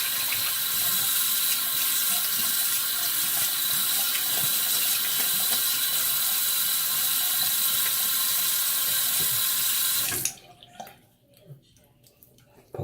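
Water runs steadily from a tap for about ten seconds while someone rinses off after a wet shave, a close, continuous hiss and splash that cuts off abruptly, leaving a few faint drips and handling noises.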